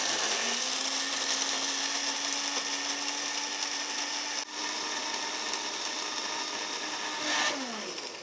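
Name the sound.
electric blender grinding dried red chillies into powder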